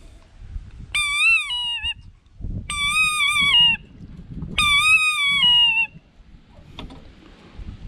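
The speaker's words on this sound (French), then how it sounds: "Ça, c'est le sifflet à vanneau." A lapwing decoy whistle for hunting blown three times, each a loud, near, warbling call of about a second with a rising and dipping pitch, separated by short gaps and quiet handling noise.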